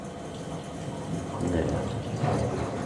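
A washing machine on a deep rinse cycle churns and sloshes water steadily, with soft gurgling and filling sounds up close.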